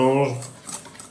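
Sugar and flour being stirred together in a buttered baking dish for a far breton, brief scraping and clinking of a utensil against the dish, starting under a trailing voice.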